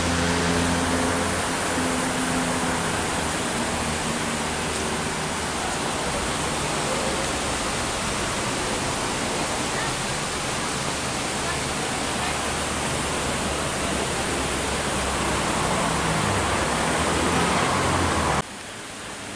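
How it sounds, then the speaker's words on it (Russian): A waterfall roars in a steady, loud, unbroken rush of broadband noise from close by, cutting off abruptly just before the end. "Тут водопад шумит"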